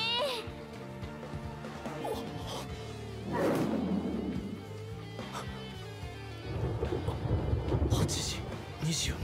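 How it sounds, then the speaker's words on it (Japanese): Rain falls steadily while low thunder rumbles swell twice, mixed under music and a voice speaking. "やだ、雨降るなんて天気予報で言ってなかったのに。"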